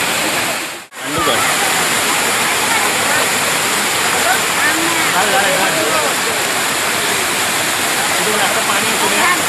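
Waterfall at Gagangiri Maharaj near Khopoli pours in a steady, dense roar that fills the scene after a brief dip at the start, with no pause, while people can be heard talking underneath.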